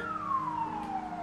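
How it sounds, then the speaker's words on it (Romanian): An ambulance siren passes outside, a steady wailing tone gliding slowly downward in pitch as it moves away, moderately loud over a low background hum with no talking. "O salvare."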